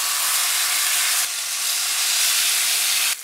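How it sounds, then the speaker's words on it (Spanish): Chicken breasts hitting hot oil in a frying pan give a steady, loud broadband sizzle that hisses continuously, with a brief dip and a slight swell partway through, and no voices over it. "ahora que le hemos agregado el aceite ya caliente la sartén, entonces colocamos las pechugas"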